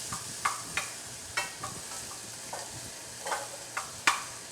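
Onions frying in a pot on a very hot commercial stove, with a soft sizzle beneath a series of sharp scraping and clacking stirs that land every half second or so.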